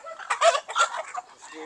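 Several chickens cluck and squawk close by in a breeding pen in quick, overlapping bursts, a busy flock chattering for a moment.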